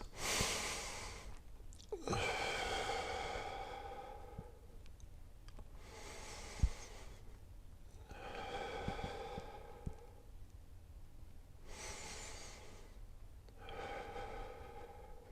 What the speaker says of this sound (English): this is really important to breathe into this. So I'm going to do 3 breaths.